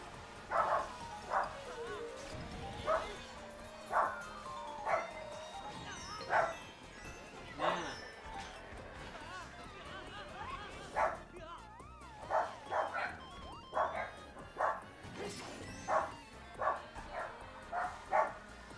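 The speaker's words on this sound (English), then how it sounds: "If you hear dogs, there's people at the door." Dogs bark repeatedly at people arriving at the door, a string of loud, close yips and woofs in uneven bursts throughout, with a voice talking underneath.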